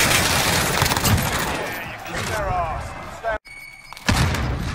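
Gunfire from a first-person shooter game crackles in quick bursts up close, a dense volley giving way to a brief silence and another blast, with people talking over the action.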